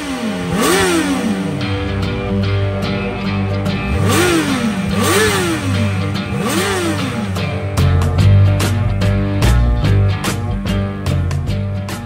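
A 2023 Honda SCL500 motorcycle engine runs close by, rising and falling in repeated revs before settling into a steady, rough rumble with sharp clicks scattered over it.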